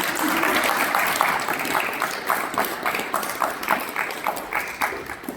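An audience at an award ceremony breaks into loud, sustained applause with cheering, a dense wash of clapping that carries on throughout.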